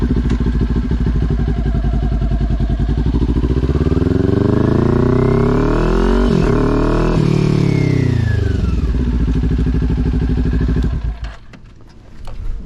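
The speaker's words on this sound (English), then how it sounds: "now let me demonstrate an upshift from first gear to second gear" A motorcycle accelerates in first gear with a rising, throaty engine whine, drops pitch briefly at the shift into second, then climbs again before the throttle eases off near the end; loud and close, with no voices.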